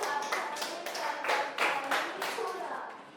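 Children in a fourth-grade classroom applaud a student, quick uneven clapping from several small hands, moderately loud and close, sustained for a few seconds.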